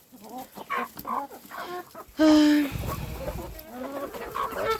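Chickens eating potatoes cluck and chatter nearby in short repeated calls, with one louder squawk midway and a brief spoken word at the start.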